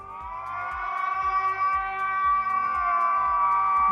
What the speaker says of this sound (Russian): Вот это сирена воздушной тревоги.